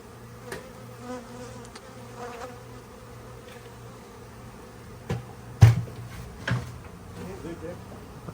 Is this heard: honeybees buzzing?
yes